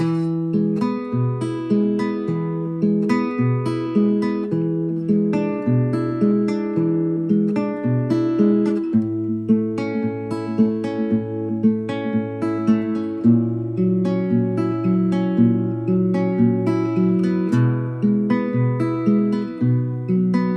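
Acoustic guitar strums and picks a sequence of chords from a song, rhythmic and full, close up and alone without any talking.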